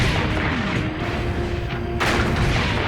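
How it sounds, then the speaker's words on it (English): Battleship turret guns fire a salvo. A single loud, heavy blast booms out after a stretch of low, rumbling background noise. "Turret 3 ready to fire."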